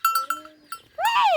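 A goat bleats close by in a rural farmyard, one loud wavering cry after a few short clanking knocks and a thin whistle-like tone.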